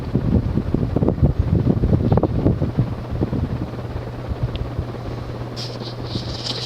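A 36-inch Nutone Hacienda ceiling fan from about 1983, with a large motor filling its housing, runs with a steady whooshing hum of moving air and a low motor drone, close by and with no voices.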